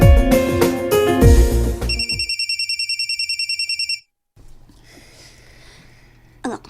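A cellphone rings in regular repeated electronic pulses after a brief burst of music, then stops, leaving near silence and a faint room hum before a short sound at the end.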